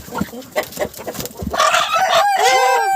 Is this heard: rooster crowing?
yes